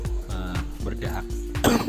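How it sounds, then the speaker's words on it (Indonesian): A person with a phlegmy, itchy throat coughs repeatedly in short bursts, close to the microphone, with a voice briefly audible near the end. "batuk"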